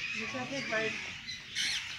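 Squawking bird calls sound close by in bursts, with a sharper, higher call near the end and faint voices underneath.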